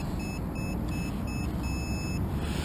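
A drone's loss alarm on a Reptile APHID X450 airframe with DJI E300 propulsion beeps in short, evenly spaced high tones, about five pulses, over steady low background rumble and hiss.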